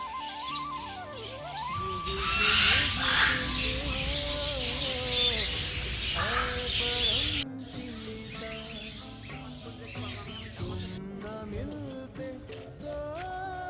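Birds including crows calling at an aviary in the Satsang ashram grounds in Deoghar, steady chirps and caws layered over a continuous busy background, louder in the first half and then settling lower.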